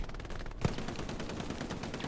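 Machine gun fire in a video game, a sharp burst of rapid shots followed by continuing distant rattling gunfire, with no talk over it.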